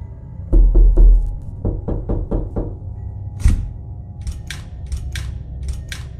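A door is pounded hard as a sound effect: a quick burst of heavy knocks, then a second run of loud, evenly spaced thuds. Sharper, lighter taps follow. No voices.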